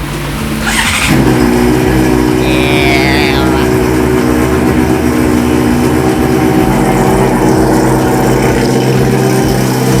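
A repaired motorcycle engine fires up with a brief whine, then runs loud and close with a steady droning idle and slight rises in revs, continuing throughout with no speech.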